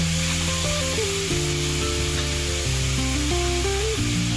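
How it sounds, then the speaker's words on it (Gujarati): Peas hit a hot pan while cutlet filling cooks, giving a loud, continuous sizzle and frying hiss under faint background music, with no one speaking. "અને વટાણા નાખીશું."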